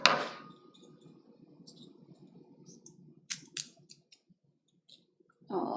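Scissors snip a drinking straw for a homemade mini skating rink craft, heard as a few quick, crisp clicks close by after a stretch of quiet room hum.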